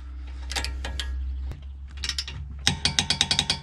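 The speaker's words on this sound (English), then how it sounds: "so I have the torque wrench locked in, 101 foot-pounds." A torque wrench tightens brake caliper bracket bolts on a 2009-2014 Acura TL to 101 foot-pounds, giving close, sharp ratcheting clicks in short bursts that end in a quick rapid run of about eight clicks.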